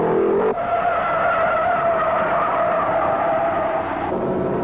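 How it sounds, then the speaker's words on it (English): A 1963 Ford Falcon modified race car spins all the way around in the first turn at Martinsville, its tires skidding in a loud, sustained squeal over roaring engines. "The 63 Falcon, driven by Al Brennan, spins all the way around and ends up on the grass."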